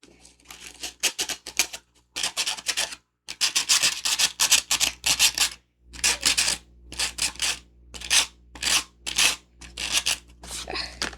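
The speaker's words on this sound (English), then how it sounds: "the glue wasn't working, so that's why I just resorted back to sanding it down." A bottle is sanded by hand in quick rasping bursts of scrubbing strokes, loud and close, broken by brief pauses.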